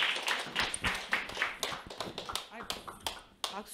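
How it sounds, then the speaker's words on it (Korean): An audience at a seminar applauds to welcome a speaker with dense, fairly close clapping of uneven rhythm running throughout, accompanied by scattered voices. "박수가 약해서 안 나올 뻔했어요"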